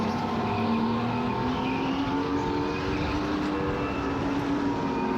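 Engine drone from inside a race car during a supercharged practice night on track, a steady loud tone with a slowly rising pitch as other cars pass nearby.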